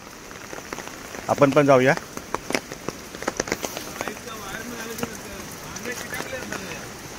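Heavy monsoon rain pours down steadily on a village hit by floods and landslides in Mahadevkhar, a constant wash of downpour under people talking nearby.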